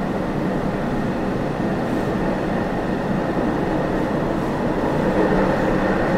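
A Kolkata metro train runs into Jessore Road station, a steady loud rumble of wheels and rails with a constant mechanical drone throughout, no talking.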